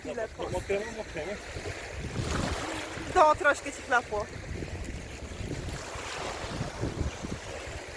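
Sea waves wash and surge nearby with wind buffeting the microphone, while a person talks briefly in Polish over the water noise.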